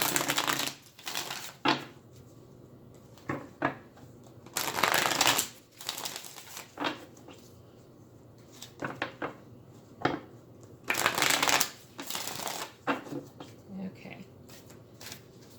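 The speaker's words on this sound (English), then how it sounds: "I'm just going to shuffle again because I want to get the cards fresh" Tarot cards are shuffled in repeated bursts of riffling and flicking, close up, with quiet speech in between.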